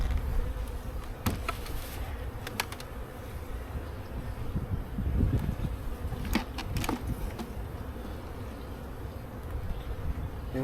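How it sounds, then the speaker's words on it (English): Honeybees buzzing inside a hive box, with a ball of bees in the bottom box: a dense, steady, close droning hum with a few sharper clicks and knocks from handling the box, and no talking. "There is a ball of bees down there."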